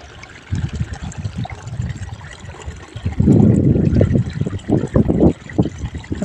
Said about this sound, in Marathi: पाण्याचं चावी असं चालू करून सोडलेलं आहे सरीमधून